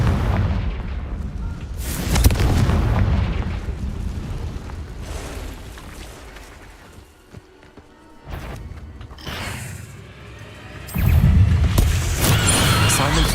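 Confringo blasting spells in the Hogwarts Legacy video game burst as loud, booming explosions, with dense rumbling impacts through the start, a quieter lull in the middle, then another heavy blast and sustained roar near the end.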